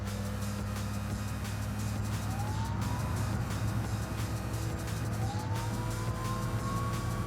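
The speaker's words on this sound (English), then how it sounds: "This is full throttle going up the hill as well." A car engine in the BeamNG driving game roars at full throttle while climbing a hill, a steady loud drone with rising whining pitch sweeps as it revs, alone without talk.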